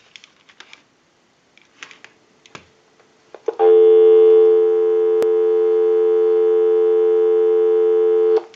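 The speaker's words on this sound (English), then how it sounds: "Go ahead and give you some dial tone." A dial tone from an AT&T 2554 telephone sounds as a loud, steady hum that runs unbroken for about five seconds. Before it come a few faint clicks and taps as the handset is handled.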